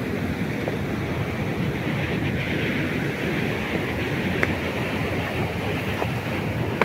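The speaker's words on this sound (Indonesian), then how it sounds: "Air juga cukup deras terdengar" A strong water current rushes beneath concrete tetrapods and piled boulders at Srandak dam, a broad continuous roaring wash, steady and fairly loud, with faint scattered clicks, no talk.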